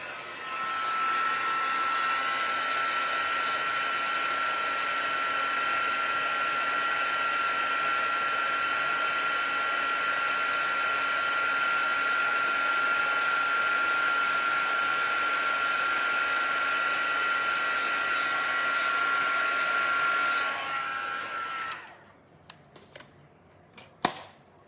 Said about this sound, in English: then get the heat tool out again.